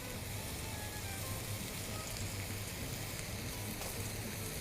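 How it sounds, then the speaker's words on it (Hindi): Minced keema roasting in a pan with spices, a soft, continuous dense sizzle like light rain, low and even throughout with no voices. "बस कीमा हमारा भुनाई पर है।"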